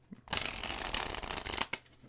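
A deck of thick, firm cardstock tarot cards is riffled in one quick, close shuffle lasting just over a second, a crisp flutter of cards with no talking.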